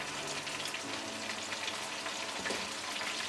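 Spices sizzle and crackle in hot oil in a pan for a dried loitta fish and Malabar spinach dish, a loud continuous frying hiss with occasional stirring scrapes.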